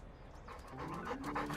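A dog in the video game Trails Beyond the Horizon pants in quick, breathy puffs that grow slightly louder over a brief moment, close and without speech.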